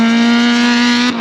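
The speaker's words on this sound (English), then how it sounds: "There goes the Sentra, it's super loud." Nissan Sentra race car roaring past on a track battle circuit, a loud sustained engine note with strong steady harmonics, cutting off abruptly near the end as it moves away.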